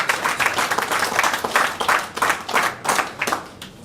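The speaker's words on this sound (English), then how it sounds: "Give him a round of applause, please." Banquet audience giving a round of applause: a small group clapping fairly close and loud, with uneven bursts and a slightly rhythmic pattern that continues through the whole moment.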